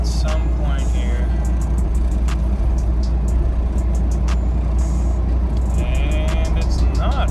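A Jeep coasts downhill, its steady low road rumble and engine drone running throughout with a few sharp clicks and knocks from the cabin; a voice murmurs faintly in the background.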